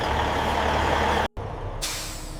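A refrigerated delivery truck loaded with baby carrots gives a loud air-brake hiss over its steady engine and refrigeration drone, followed by a short burst of escaping air.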